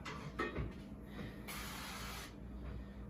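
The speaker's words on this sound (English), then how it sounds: "I'm gonna put down a spray. So I'm gonna use an olive oil so we don't have anything stick to it." Olive oil cooking spray hisses onto a hot pan with a metal handle in a home kitchen: a single steady burst just under a second long, close and fairly loud, over low room noise.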